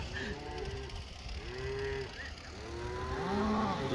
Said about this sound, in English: With all the cows.